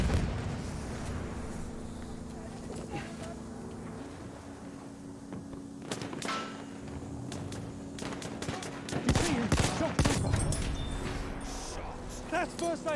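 Battlefield 1 multiplayer gunfire: bursts of automatic fire and scattered shots with deeper blasts, loudest toward the end, under a player's ongoing talk.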